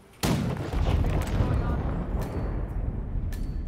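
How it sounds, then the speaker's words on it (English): A sudden deep boom of a cannon shot in Hitman, followed by a long rumbling roar that slowly fades with a few sharp clicks. "There's a cannon here."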